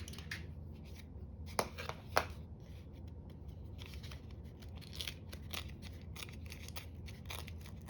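Scissors trimming paper edges for a glue book junk journal, a series of close, crisp snips and rustles with a couple of sharper cuts, no talking.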